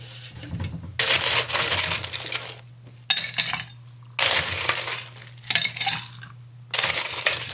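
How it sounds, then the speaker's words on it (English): Ice cubes tossed into a glass for a mojito: several bursts of clattering, clinking cubes, each a second or two long, with quiet gaps between them. "Let's toss some ice in here."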